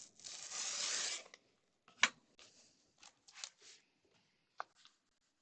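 A blade draws along a ruler through a design board, a quiet rasping tear lasting about a second, then a few short scrapes and small knocks follow in a quiet room.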